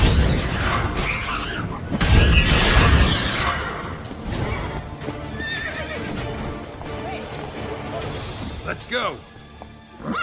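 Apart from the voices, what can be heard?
horse Roach neighing and galloping in video game The Witcher 3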